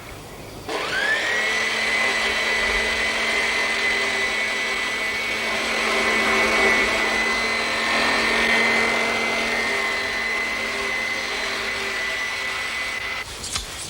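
Electric lawn mower giving a lawn its first cut of the season, its motor starting with a rising whine and then running at a loud, steady drone for over ten seconds before stopping.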